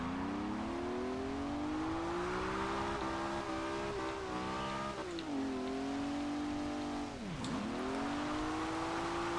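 Car engine revving steadily in the Forza Horizon 2 racing game during a wet-weather drift session, loud and continuous with pitch rising and dipping as the throttle shifts, a sharp drop near the end before climbing again.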